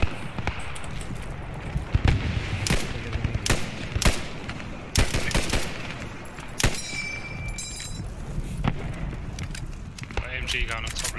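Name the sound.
machine gun firing in video game Post Scriptum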